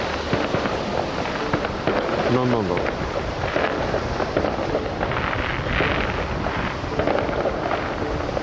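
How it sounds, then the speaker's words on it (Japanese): Fireworks thudding and crackling in the distance over Akita, Japan, through steady outdoor noise, with a person talking over them. "なんか花火が上がってますね"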